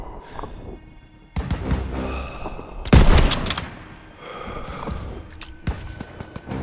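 Machine gun fire in the World War II shooter game Call of Duty: WWII, bursts of rapid gunshots and heavy booms crackling over a battlefield, with a loud blast near the middle and scattered firing before and after.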